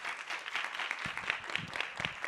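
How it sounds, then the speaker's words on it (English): An audience applauds Ronald at a youth climate conference event in South Africa, a modest scattering of claps rising after a second, moderately distant in a hall. "we're going to need you to give him a huge round of applause"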